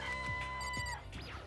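Video game chickens clucking in Danganronpa: Trigger Happy Havoc, a close, busy run of squawks and clucks over a tonal game backdrop, with a sharper burst of cackling near the end.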